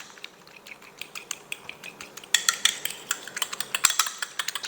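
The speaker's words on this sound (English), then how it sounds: "you just want to go ahead and beat it real well together, just like you would any other egg" A preserved egg is beaten in a bowl, heard as rapid close clinking taps of a utensil against the bowl, quicker and louder in the second half, with no voices.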